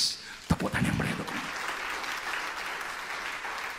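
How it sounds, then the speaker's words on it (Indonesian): A church congregation applauding during a sermon, a sudden burst of clapping that settles into a steady, fairly loud patter lasting several seconds. "Tepuk tangan yang meriah."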